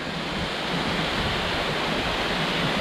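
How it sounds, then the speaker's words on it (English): Waterfall in Coolah Tops National Park, a steady, loud wash of falling water with a constant broadband roar and no other sounds. "Probably one of the most beautiful waterfalls I've seen"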